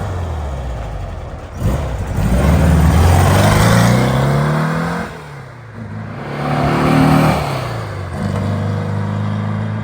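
A 1958 Porsche 356A Speedster on a road test accelerates hard, its engine note climbing through the gears in two rising pulls with a short lift between them, close and loud with no talking.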